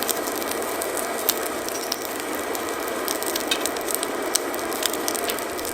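A blacksmith's forge fire roars steadily while heating iron for a traditional Korean hoe (homi), a constant close rushing hiss broken by small crackles and pops, with no talking.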